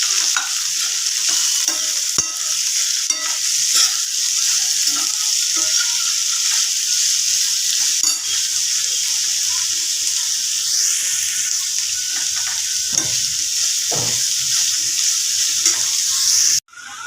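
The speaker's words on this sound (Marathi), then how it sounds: "3 कांदे घेतले मीडियम साईजचे. त्यांना आपल्याला चॉकलेटी ब्राऊन होईपर्यंत" Three chopped medium onions frying and being stirred in a pan until brown, a steady close sizzle running throughout with occasional scrapes of stirring and a couple of louder knocks near the end.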